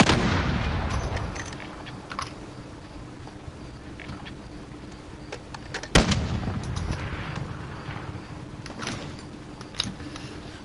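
Explosions and gunfire from a Call of Duty Warzone battle royale match rumble at a moderate distance, with one sharp, loud blast standing out midway and scattered shots following it.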